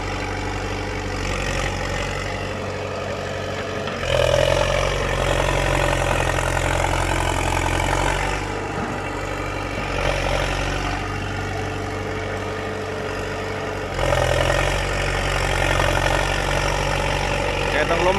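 A D50A tractor idles with a steady low diesel rumble, swelling slightly louder in two stretches, in a rubber plantation during the rainy season.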